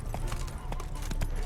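A horse in the Witcher 3 video game, spooked by ghosts, clops along in quick irregular hoofbeats over a steady low rumble of background ambience.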